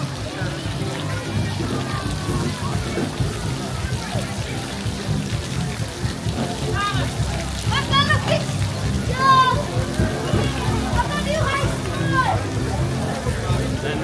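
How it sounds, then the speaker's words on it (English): Kids play and splash at a giant pirate ship water playground on the island of CocoCay, with children's voices and watery splashes mixed into a steady, busy outdoor din throughout. "then you do have this giant pirate ship water playground for kids"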